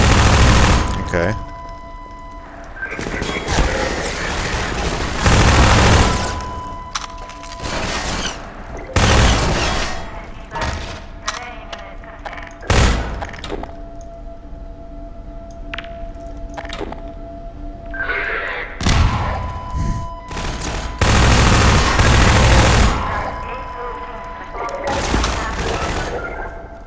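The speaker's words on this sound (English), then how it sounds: "I just enjoy grenades." Repeated grenade blasts and bursts of gunfire from Half-Life 2 combat played with an Oculus Rift, loud booms and rattling volleys recurring through the scene, with brief quieter gaps between explosions.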